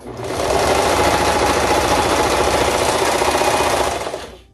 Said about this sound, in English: I like to start my folded edge in the serger first